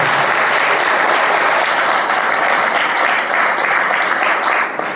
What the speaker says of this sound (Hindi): एक बार मोदी के लिए जोरदार तालियां